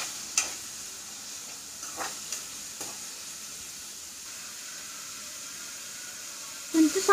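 Onions sizzling quietly in a frying pan for a chana dal curry, a soft steady hiss broken by several spatula taps and stirring scrapes, with a clatter at the end.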